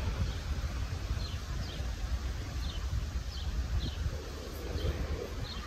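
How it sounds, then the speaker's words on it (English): Wind sweeps through heart-shaped leaves in a suburban Ohio backyard, a steady rustling hiss with low buffeting rumble throughout, faint scattered chirps overhead, and no voices. "Ooh, wind."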